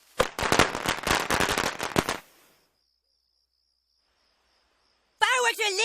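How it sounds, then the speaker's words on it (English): Rapid string of firecracker pops set off by Kenny in South Park, dense loud cracks for about two seconds, then quiet, followed by a voice speaking at the end. "Kenny is still using those damn fireworks."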